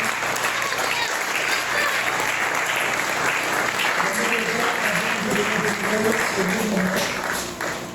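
A congregation applauds and cheers in a church gathering to acclaim God, a loud continuous wash of clapping with voices mixed in, fading slightly at the end.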